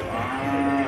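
A single head of cattle at a livestock market lets out one sustained, loud, close moo that fills the whole moment.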